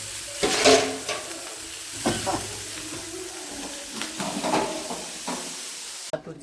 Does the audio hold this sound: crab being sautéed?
yes